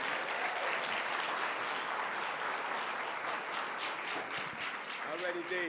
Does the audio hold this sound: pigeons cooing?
no